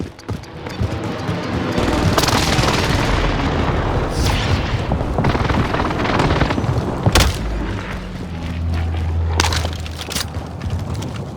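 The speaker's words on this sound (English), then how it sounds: "Enemy precision airstrike." A precision airstrike in the Call of Duty Warzone video game on the Fortune's Keep map sets off a run of loud, deep booming explosions. The blasts rumble continuously for several seconds, with sharp cracks rising above the din.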